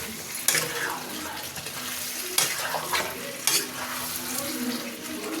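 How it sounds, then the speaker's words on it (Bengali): Spice paste with boiled potatoes sizzles and crackles as it is stir-fried in a pan, a continuous close fry broken by a few sharp scraping stirs. "অনেকক্ষণ হলো মশলা কষছে।"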